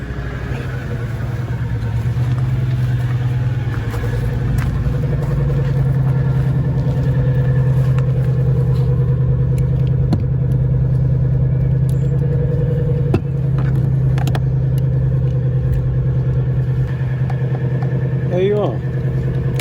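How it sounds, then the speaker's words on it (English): A Jaguar XK 4.2 engine, started with a portable jump-starter, runs with a loud, steady low hum and idle throughout, with faint mechanical ticks and a brief rev near the end. "Now we'll see if it can start the XK."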